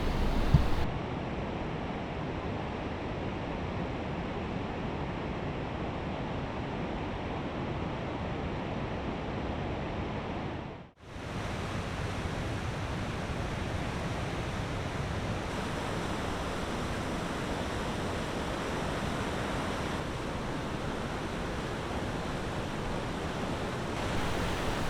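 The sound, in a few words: waterfall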